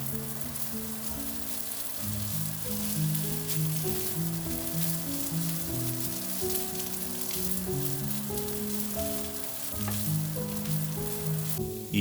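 Rice and chicken-rice ingredients stir-fried together in a pan, a steady soft sizzle running under prominent background music throughout.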